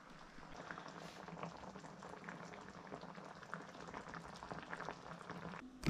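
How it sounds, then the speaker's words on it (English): Chunky chilli con carne made with diced beef steak simmering on medium heat, a steady dense bubbling and popping that holds at an even level throughout, with a faint clatter at the very end. "So we've simmered this now on a medium for 10 minutes."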